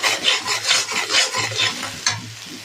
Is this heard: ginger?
yes